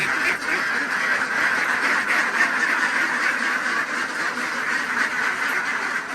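A dense, continuous chorus of many young female Khaki Campbell ducks quacking at once, loud and close, with no pauses throughout.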